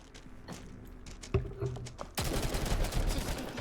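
Gunfire in the tactical game GFL2 starts with a few scattered shots and then becomes a dense, continuous volley of rattling bursts. The shooting is loud and close.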